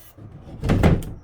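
A HOOWISER fingerprint door lock releases and the door swings open, a short, close knock-and-thud of the latch and door lasting about a second.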